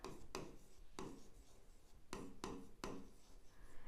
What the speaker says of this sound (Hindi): आज ब्लैक से लिखती हूँ, ब्लैक अच्छा दिखेगा इस पर